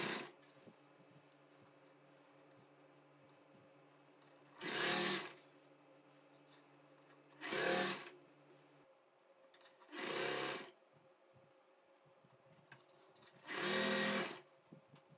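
A sewing machine stitching churidar fabric runs in four short bursts of a few seconds each, close and clear, separated by quiet pauses with light handling noise.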